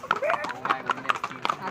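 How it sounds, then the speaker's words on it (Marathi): A group of horses walks along a road in Matheran, their hooves clip-clopping in a steady, uneven patter close by while people talk over them throughout. "सगळे घोडे या रस्त्याने जात आहेत"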